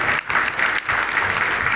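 Applause from an audience at a gathering of disabled people thanking the state's chief minister for a pension increase, dense steady clapping with a couple of brief dips, close and loud throughout.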